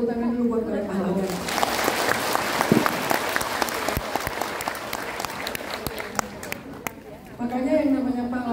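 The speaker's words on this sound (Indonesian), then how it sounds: "Tepuk tangan dulu buat para pahlawan." A congregation at a religious talk in Hong Kong bursts into applause as the preacher's voice fades out. The clapping runs steady for several seconds with scattered sharp claps, then tapers as speech resumes.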